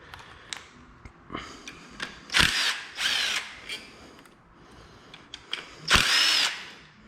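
An air impact gun removes a 10 mm tensioner bolt on a BMW M50 engine in a garage, firing in several short loud whirring bursts with pauses and faint handling clatter between them.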